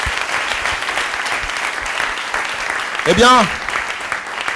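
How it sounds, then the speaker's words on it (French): Audience applause at a tribute event honoring a veteran Congolese musician's 30-year career, steady clapping throughout with a brief spoken interjection near the end. "On applaudit très fort pour lui."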